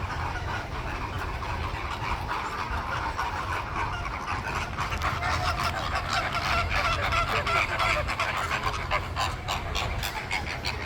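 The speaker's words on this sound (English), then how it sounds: "Let's go look at the flamingos" A flock of flamingos on the outdoor grounds of Disney's Animal Kingdom Lodge honks and gabbles continuously, a dense, steady chorus of overlapping calls that stays loud and close throughout.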